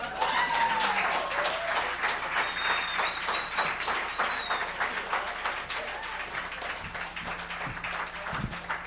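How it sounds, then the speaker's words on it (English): Crowd applause closing a college comedy show, sustained dense clapping that fades gradually, with a couple of whistles riding above it early on. "Give them a nice round of applause."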